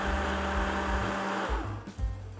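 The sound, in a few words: food cutter chopping cold butter for tart dough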